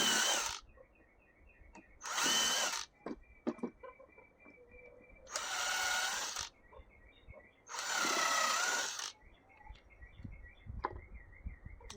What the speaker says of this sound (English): Don't measure or anything, I just drill.